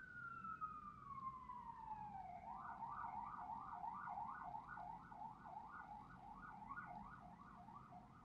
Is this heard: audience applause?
no